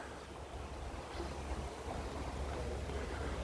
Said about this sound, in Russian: Сулак течет, изумрудного цвета вода, бешено красивая река.